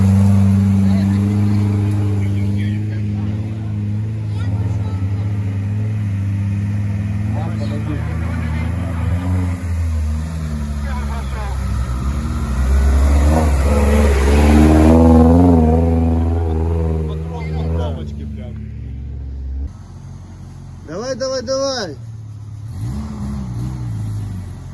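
A Lada Niva off-road vehicle's engine revs and labors in a forest, loud and close, rising and falling under steady conversation between people.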